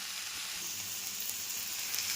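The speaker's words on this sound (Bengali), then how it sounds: "লাউ ডগা ভাজা ভাজা করে নেড়ে নিয়েছি" Gourd leaves and mixed vegetables frying in a pan, giving a steady, close sizzle with a bright hiss and soft crackle that holds even throughout, with no voices.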